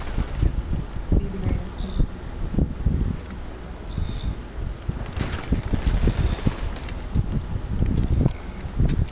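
Shotgun blasts in Grand Theft Auto V Online come as several sharp, loud reports spread across the stretch, set over steady wind-like ambient noise, with no talking.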